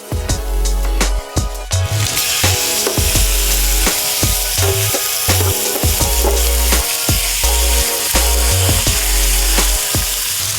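Marinated chicken fajitas hit a hot flat top griddle with a loud, steady sizzle, broken by repeated scraping and tapping of a spatula as the pieces are moved around.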